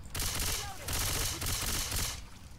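Gunfire in the video game Left 4 Dead 2 comes in three loud bursts of rapid shots, each about half a second long, with short gaps between them.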